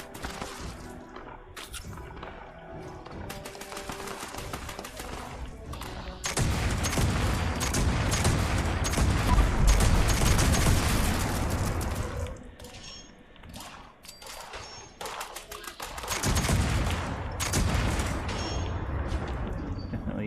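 Black powder rifle fire in the video game Fallout 76, heard as dense bursts of gunshots with booming impacts, loud and continuous in two long stretches separated by a brief lull.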